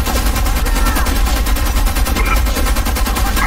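Sustained, loud automatic gunfire in the shooter game Homefront: The Revolution rattles without pause, a dense stream of rapid shots layered over combat noise.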